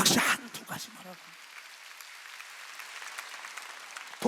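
A church congregation at a Wednesday worship service bursts into brief clapping mixed with voices, which quickly thins into a faint, scattered patter under quiet room noise.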